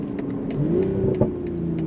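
A BMW Z4 engine revs steadily under a continuous car drone, with a single sharp exhaust pop cracking out near the middle before the drone carries on.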